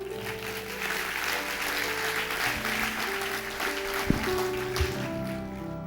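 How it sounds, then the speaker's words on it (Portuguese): Church congregation applauding during a sermon, a moderate continuous patter of clapping over a low sustained organ-like chord, with a couple of soft thumps partway through. "Dê um aplauso ao Senhor"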